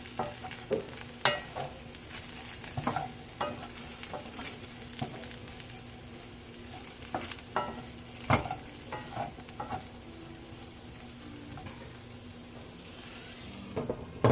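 Baked beans being stirred in a pan on a stovetop burner: repeated scraping and clinking strokes over a low steady sizzle and hum, near and moderately quiet, with no voices.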